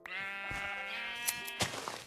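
Minecraft sheep bleat in a wavering, nasal call, one long cry fairly close by with a few soft clicks and game noises around it.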